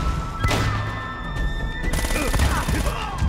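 Shotgun blasts and gunfire in the video game Uncharted: Drake's Fortune, repeated loud booming shots mixed with impacts and crashes, continuous and close, with a voice speaking over the action.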